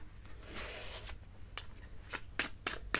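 Playing cards being handled and shuffled at close range, a series of crisp riffling bursts and soft rubbing rustles, irregular and growing busier toward the end, with no talk.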